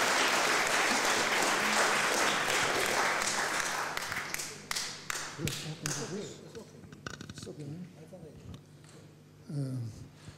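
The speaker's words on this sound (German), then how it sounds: "Applaus" Audience applause at a talk on Jewish life today, a dense steady clapping that fades out over the first half, followed by scattered claps and a voice speaking.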